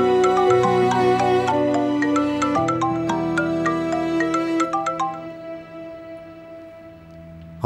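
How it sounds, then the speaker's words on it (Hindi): A phone ringtone plays a bright, repeating electronic melody of stacked tones for several seconds, loud and close, announcing an incoming call in a dubbed Turkish drama scene, then fading into a sustained tone. "बारान आगा, आपने खबर देने को कहा था, इसीलिए फोन किया।"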